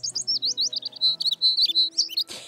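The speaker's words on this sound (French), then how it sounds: "Au revoir, petit oiseau." A baby bird in the French children's cartoon Zou chirps in a rapid, continuous string of high, bright tweets, ending in a short burst of noise.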